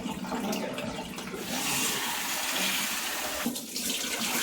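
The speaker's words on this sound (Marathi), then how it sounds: "आता स्वच्छ धुवून घ्यायची 4-5 पाण्याने डाळ" Lentils being rinsed in water in a home kitchen, a steady close pouring and swishing of water that runs without a break.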